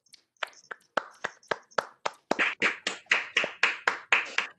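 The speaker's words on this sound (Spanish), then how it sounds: "Así que un gran aplauso para ellos" A small audience claps at the close of a Spanish-language conference on electronic poetry. Sharp individual claps start sparse and hesitant, then quicken into a brisk, even run of close, distinct hand claps.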